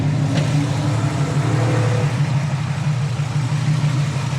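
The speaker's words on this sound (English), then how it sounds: "Engine sounds nice." A 1967 Chevy Camaro's 350 V8 with headers and an Edelbrock intake idles steadily and loudly nearby, a deep continuous rumble with a slight rise in revs early on and no talking.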